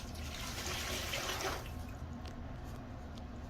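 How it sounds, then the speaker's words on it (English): Water pours steadily into a Cambro bucket as the first step of mixing an 80% hydration sourdough white dough, a broad rushing splash that eases off midway into softer trickling. "initially what we do is we start with our water"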